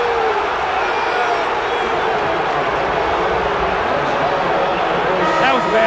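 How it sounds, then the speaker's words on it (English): Dense roar of an arena crowd at a 1990 Chicago Bulls versus Cleveland Cavaliers basketball game, swelling in reaction to an offensive foul called on a drive into Michael Jordan; steady, loud and continuous with mixed voices throughout. "Listen to the crowd."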